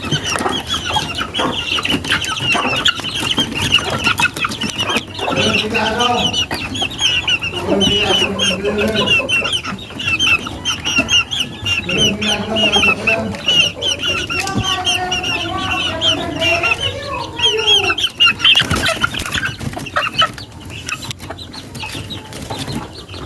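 Chickens clucking nearby in a backyard coop, steady repeated clucks and calls that continue throughout over a constant background hum, with no talking.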